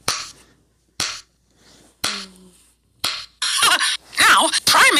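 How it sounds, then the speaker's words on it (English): Hands clapping slowly in an even beat, four sharp isolated claps about a second apart, followed by cheerful voices and busier sounds. "Clap your hands real slow."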